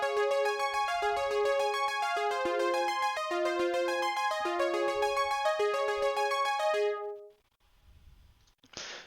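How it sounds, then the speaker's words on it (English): Synthesizer arpeggiator preset, rapid bright notes cycling through minor chords in a steady loop for about seven seconds, then stopping abruptly before a short burst at the end. "And so the ARP sounds like this."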